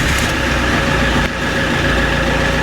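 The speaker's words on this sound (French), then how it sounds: "Allez, je redémarre." An Alfa Romeo engine idles steadily after a restart, a continuous broadband rumble with a low mechanical drone and faint hum throughout, close and fairly loud with no talk.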